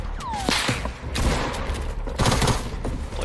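Gunfire in the video game Fortnite, with a dense stretch of rapid shots and bursts cutting through busy game noise, loud and close throughout.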